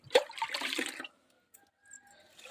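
Water is poured onto potted plants in a short, close gush of splashing that lasts about a second, then stops, leaving a few faint drips in near silence.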